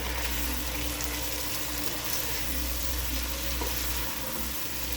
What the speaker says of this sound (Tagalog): Ilalagay na natin ang ating chicken.